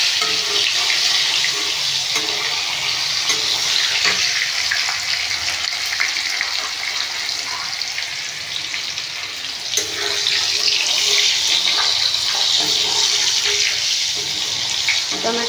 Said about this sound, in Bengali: টমেটোটা একটু হালকা করে ভেজে নেব